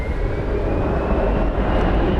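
An airliner in FIFA World Cup livery at DFW Airport rumbles as a steady, broad engine roar, holding even and fairly loud throughout.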